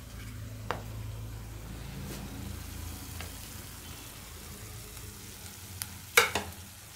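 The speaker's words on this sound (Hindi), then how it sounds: "मसालों को भी अच्छे से भूनने दूंगी मैं" Garam masala, coriander powder, turmeric and red chili powder frying in a kadai while cooking an aloo matar curry, a soft steady sizzle with brief stirring scrapes and a couple of sharper clinks near the end.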